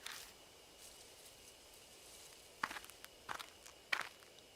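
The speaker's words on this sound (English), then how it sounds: "I hear footsteps again." Footsteps crunch through undergrowth in the horror game Death Mark, a few quiet steps after a near-silent stretch, bunching into short clusters that grow slightly louder as they draw nearer over a low ambient hiss.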